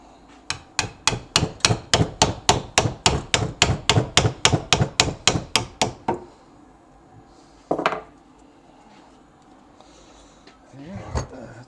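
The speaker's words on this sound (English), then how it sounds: "use a little bit of a hammer treatment" About twenty sharp, evenly spaced hammer blows ring out on metal as a bushing is driven into place on a square-body Suburban, in a steady rhythm, followed by a pause and a couple of scattered clanks.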